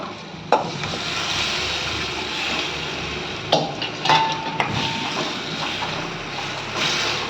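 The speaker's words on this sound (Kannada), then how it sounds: "ಚೆನ್ನಾಗಿ ಒಂದು ಸರ್ತಿ ಚಂದ ಮಿಕ್ಸ್ ಮಾಡ್ಕೊಂಡು ಬರ್ತೀನಿ" A spoon scrapes and stirs through a pot of simmering drumstick masala curry, with occasional clinks against the metal over a steady bubbling background.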